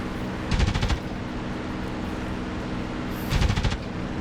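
Two short bursts of twin .50 caliber machine guns from a P-51 Mustang in the DCS flight simulator, each a rapid rattling volley about half a second long over a steady engine drone.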